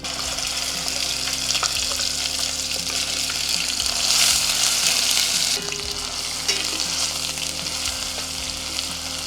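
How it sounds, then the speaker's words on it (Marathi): Wet ground masala paste frying in oil for stuffed brinjal, a continuous loud sizzle with spatula stirring and a brief burst of brighter hissing midway. "हा मसाला आपण जो केला होता ओला तो आपण आता परतून घेणार आहे"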